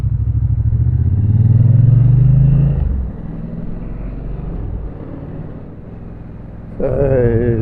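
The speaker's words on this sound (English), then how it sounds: "Traffic all seems to be flowing" Road traffic heard from inside a moving car near Napier, a low steady engine and road rumble that swells as a vehicle passes close early on, then settles into a quieter drone before a tonal whine rises at the end.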